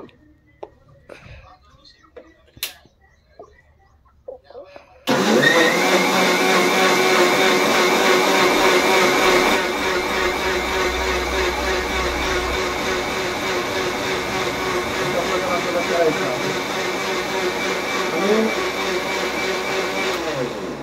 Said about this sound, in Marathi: आता आपण याचं पद्धतशीर मिक्सर मध्ये ज्यूस करून घेऊया